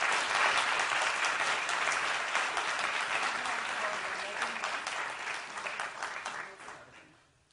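An audience applauds steadily as the Pakistani ambassador is welcomed to the stage at a public address, a dense, even clapping that holds for several seconds and then fades out at the end.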